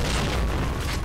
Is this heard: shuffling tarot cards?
no